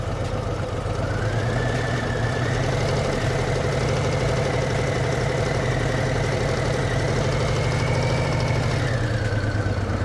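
A motorcycle engine idles and revs steadily through clutch and throttle practice by a beginner rider, a continuous close mechanical drone with a rising pitch in the middle before settling back, no voices.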